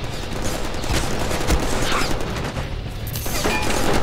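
Rapid gunfire erupts in the Deadpool video game, a dense, loud volley of shots with clanking mechanical noise layered underneath, continuous for a few seconds.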